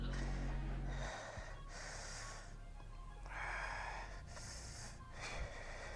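Heavy, forceful breaths during a leg workout of squats, with several breathy exhale bursts and snort-like puffs spread through a quiet, airy background.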